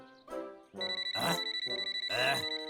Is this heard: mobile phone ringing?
yes